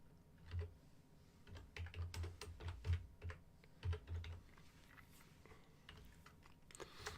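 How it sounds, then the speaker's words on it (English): Typing on a computer keyboard during tabletop game preparation, steady bursts of key clicks in irregular rhythm, fairly close and quiet, with no talking. "it's because I am actually working and typing down all your ideas"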